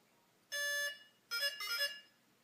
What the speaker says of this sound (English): once you hear that musical tone